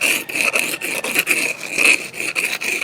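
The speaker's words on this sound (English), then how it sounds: "with this tool I'm just going to scrape, flatten it out a little bit." Repeated rasping scrapes of a hand tool across a wooden surface, steady back-and-forth strokes up close with no talking.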